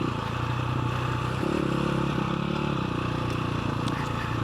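KTM 525 EXC enduro motorcycle ridden off-road in the Algarve, its engine droning loud and steady with a shifting throb as the revs change, and faint clatter over the top.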